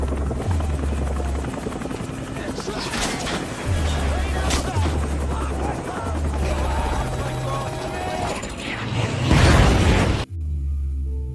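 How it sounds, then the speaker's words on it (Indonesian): A helicopter in a film drones and thumps loudly under narration, then crashes to the ground with a sharp burst of noise near the end before a brief sudden quiet. "Helikopter pun jatuh ngerusuk ke tanah dan membunuh si Ishak."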